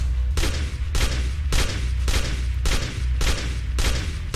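Gunfire in the ghost game Be Gone Ghosts, heard as a steady series of about eight heavy, booming shots at even intervals, muffled as if fired through a wall, with no talking.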